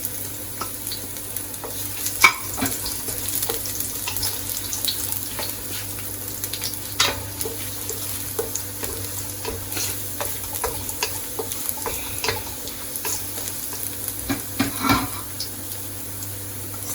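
Garlic sizzling steadily in a hot pan for noodle cooking, with a soft continuous fry broken by occasional scraping and stirring clatters, close and moderate.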